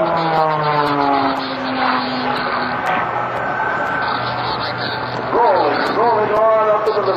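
Aerobatic propeller airplane performing at a 2007 Air National Guard open house airshow, its engine droning steadily with rising and falling pitch sweeps as it maneuvers, heard beneath continuous announcer commentary.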